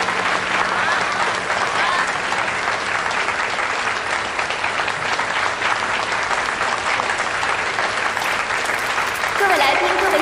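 A large audience at a Lu Ming Group home brand launch event applauds steadily and loudly for about ten seconds. The clapping is dense and sustained, with a voice emerging near the end.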